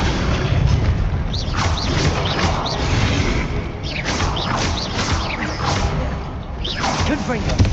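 Confringo blasting-spell explosions in the wizarding game Hogwarts Legacy, loud repeated booming blasts and whooshes in a continuous chaotic battle mix, with a voice speaking over it.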